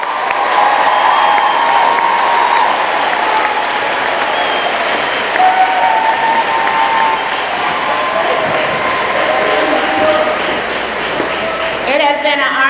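Sustained applause from a graduation audience of families and students honouring an eighth-grade class, dense steady clapping filling the room with a few cheers, fading slightly near the end.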